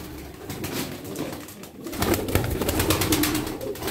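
A Çorum çıplağı tumbler pigeon, a female, coos in soft, repeated throaty bursts close by, with rustling and handling noise around it.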